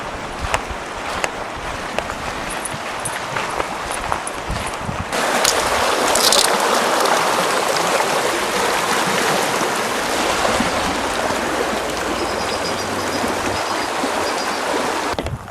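Rushing water from a waterfall beside a hiking trail, a steady broadband roar that grows louder and fuller midway, with no talk.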